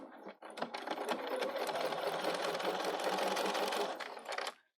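A Bernina 770 sewing machine runs in one steady stitching burst for several seconds while quilting a pattern piece along an edge-stitched faux binding line, then stops, with no talk over it.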